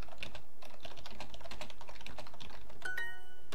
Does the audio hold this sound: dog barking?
no